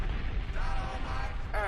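A bomb explosion sound effect booms as a low, rumbling blast that fills the short moment, with a voice briefly overlapping.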